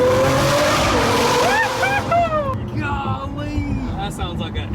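A rebuilt Lamborghini Aventador engine on its first test drive revs hard, with pitch climbing in sweeping steps as it shifts through the gears, loud and close, then settles into a lower, rougher drone.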